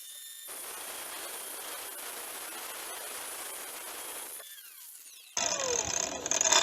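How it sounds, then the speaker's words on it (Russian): Angle grinder cutting an old 8 mm steel rebar piece, a steady harsh grinding hiss lasting about four seconds, then a short pause before a louder, brighter whining burst of the disc. "Теперь давайте же попробуем распилить им арматуру."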